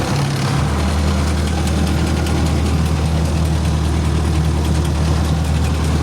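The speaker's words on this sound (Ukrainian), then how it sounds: "І все, у нас вже пішов оприскувач бризкає" A field sprayer fitted with electric valves on its booms runs and sprays, giving a loud, constant engine drone and pump hum that holds steady and close throughout, with a low pitch shift just at the start.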